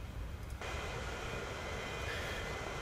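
Airplane engine drone from a plane in flight in the Transport Fever simulation game, steady and continuous throughout, a broadband roar that swells in just after the start and holds at an even level with no other sounds on top.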